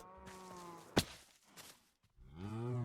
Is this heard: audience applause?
no